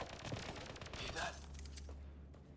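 Rapid gunfire crackles in Mass Effect Andromeda, a dense volley of shots through the first half fading into a low rumble, with speech mixed in.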